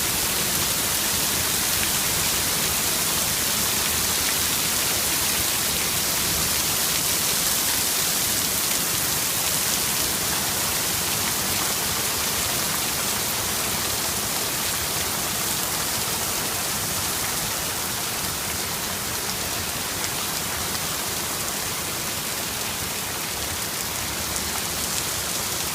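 Heavy rain pours steadily during a California thunderstorm, a dense, unbroken hiss of drops drumming on surfaces with no thunder standing out.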